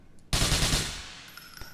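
A single loud gunshot blast in the video game GTA IV, sharp onset followed by a decaying rumble and a faint tonal ring.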